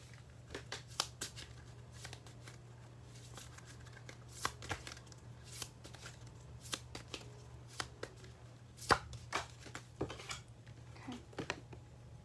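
A deck of tarot cards is shuffled with difficulty in irregular bursts of riffling and slapping, close and fairly quiet over a constant low electrical hum.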